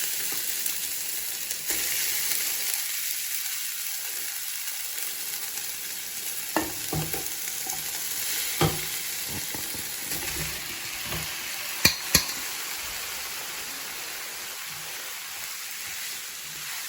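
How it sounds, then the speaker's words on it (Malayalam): Chopped pumpkin fries in hot ghee for a pumpkin payasam, giving off a steady close sizzle while a spoon stirs it, with a few sharp clinks and scrapes against the pan. "നമുക്ക് നെയ്യ് ചൂടായിട്ടുണ്ട്, അതിലേക്ക് ഇതാ ഈ ചോപ്പ് ചെയ്ത് വെച്ച മത്തൻ ഇട്ട് കൊടുക്കും"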